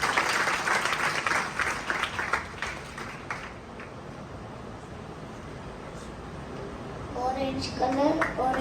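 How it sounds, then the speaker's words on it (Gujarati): Audience clapping at a temple show, a burst of applause at the start that fades, then light clapping returning near the end amid a speaking voice. "તાળી પાડો, તાળી પાડો."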